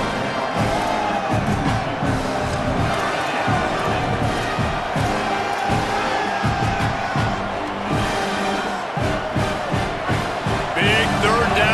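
A roaring stadium crowd in EA Sports College Football 27 rallies behind the defense on a big third down, a steady wall of cheering with rhythmic thumps and chants that swells toward the end.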